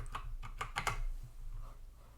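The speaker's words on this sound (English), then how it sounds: "old password, if I can type it properly" A password is typed on a computer keyboard: five or six quick, crisp key clicks in a short burst, then a softer trailing tap, close up in a quiet room.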